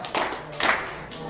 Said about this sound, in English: If you can hear my voice, clap 3 times